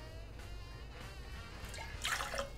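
French dry vermouth poured into a cocktail glass, a faint liquid trickle that swells into a brief brighter splash near the end over quiet room hiss.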